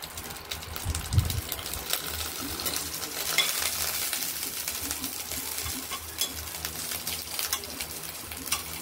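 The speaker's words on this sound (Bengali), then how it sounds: "আদাটা একটু ভাজা ভাজা হচ্ছে" Crushed ginger frying in a pan with bay leaf, giving a soft, continuous sizzle with occasional scrapes and stirring clinks of a spatula against the pan, close and fairly quiet.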